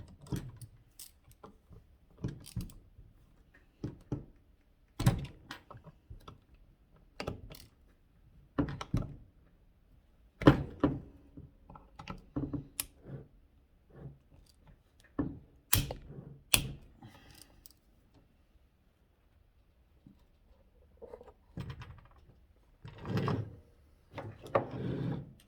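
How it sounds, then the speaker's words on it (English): Springs being pried off a BMW N62 V8 lever arm shaft make sparse, sharp metallic clicks, snaps and tool taps, close and quiet, scattered irregularly with pauses between them. "We're just gonna remove these springs quickly here."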